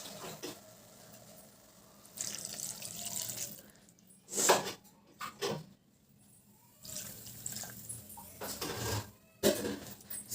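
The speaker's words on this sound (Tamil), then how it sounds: "இப்போ உங்களுக்கு தேவையான அளவுக்கு தண்ணியை சேர்த்துக்கலாம்" Water poured into a pan of vegetable kurma in several splashing bursts with pauses between, moderately close, no one talking.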